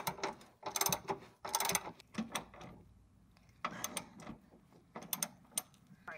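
Wrench with an 18 mm socket loosening torque tube bolts on a C5 Corvette, giving bursts of ratcheting clicks and metallic clatter in irregular clusters, close and fairly loud, with quieter gaps between.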